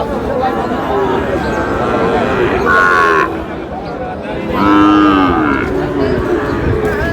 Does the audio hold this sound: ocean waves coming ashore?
no